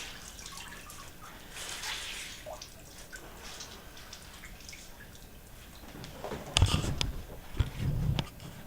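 Water drips and splashes as a wet atabaque drum head is wrung out, faint patters at first, then louder wet spatters and drips near the end.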